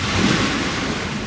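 Ocean waves near boat pontoons, a steady broad wash of surf with wind rumbling against the microphone, continuous and fairly loud with no voices.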